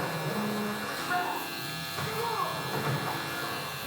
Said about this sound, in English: I'm gonna go ahead and go on my clipper open.